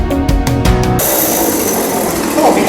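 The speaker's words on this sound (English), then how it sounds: "But who could resist watching Dave have fun cutting open the door with a chainsaw?" A chainsaw cuts open a door opening in a log wall. The engine first drones with a pulsing, revving tone, then the blade bites into the wood with a loud, harsh, steady rasp.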